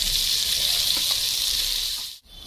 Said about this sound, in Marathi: मिरचीचा आणि जिऱ्याचा ठेचा बनवलाय, तो त्या तुपामध्ये टाकून घ्यायचा